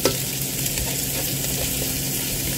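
Mixed vegetables sizzling and frying in a pan for a buttered mixed vegetables dish, a steady close hiss with light stirring, no voices.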